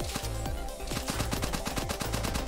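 Rapid burst of weapon fire in the deck-building action roguelike One Step From Eden, a steady string of about twenty sharp shots rattling off in quick rhythm over game music, loud and close.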